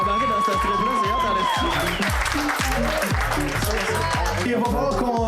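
A comedy-show audience breaks into loud, sustained applause and cheering, dense clapping from a packed crowd filling the room while a voice speaks over it.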